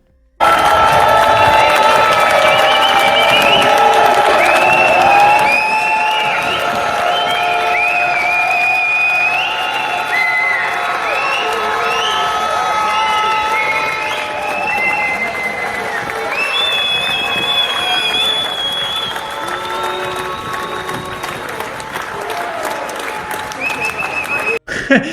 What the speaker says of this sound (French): À Nice aussi, la foule se rassemble pour refuser le coup d'état du bloc bourgeois.